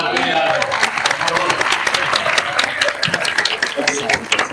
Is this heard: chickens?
no